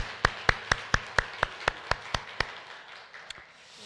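Church congregation at a Sunday family worship service giving thanks with applause, heard as about ten sharp, evenly spaced claps in a steady rhythm that trail off into quieter scattered taps.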